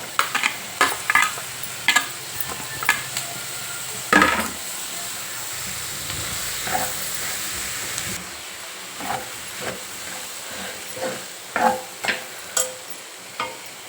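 Ridge gourd pieces frying with moong dal in a pan give a low background sizzle, broken by repeated scraping and clacking stirring strokes at an uneven rhythm, with no one speaking.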